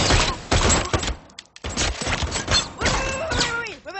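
Gunshots fired at a bulletproof hero in a film, a rapid volley of sharp cracks and thuds with brief gaps, loud and close, mixed with voices shouting.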